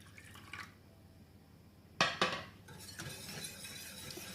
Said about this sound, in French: je vais ajouter le restant de l'eau et le jus de citron.